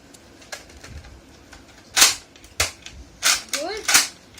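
A Nerf Retaliator toy blaster firing, several sharp snapping shots at uneven intervals, close and loud, with a faint whistling swoop near the end and quiet background between shots.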